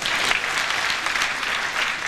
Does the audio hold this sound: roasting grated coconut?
no